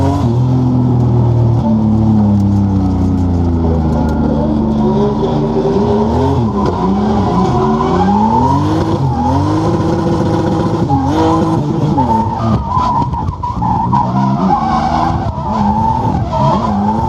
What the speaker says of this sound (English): We're gonna go blaze some tyres.